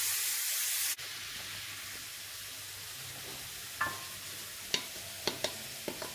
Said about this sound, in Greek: και εξακολουθούμε να τσιγαρίζουμε